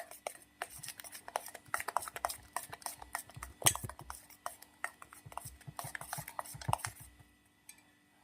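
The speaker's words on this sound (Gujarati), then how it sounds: "સરસ મજાનું આપણે આને મિક્સ કરી દઈશું" Sago pearl mixture with orange food colour being stirred and mixed in a bowl, giving a steady run of small spoon clinks and taps against the container, fairly close and moderately loud, with no talking.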